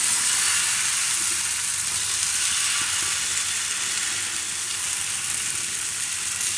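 Besan and bajra pudla batter sizzles on a hot pan in a steady, bright hiss that stays close and even from start to finish, with no talking.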